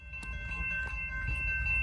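A CSX freight train rolls along its rails with a steady low rumble and wheel clatter, a few sharp clanks over the top, fairly close and with no talking.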